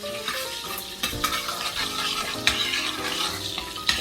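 Penne a la vodka sauce stirred in a pan, soft sizzling under repeated utensil scrapes and clinks against the pan, close and moderately loud, with no talking.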